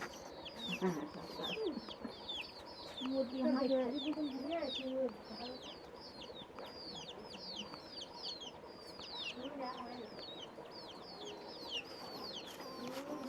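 Several chickens clucking and chattering nearby in a busy, overlapping chorus, with some faint background voices.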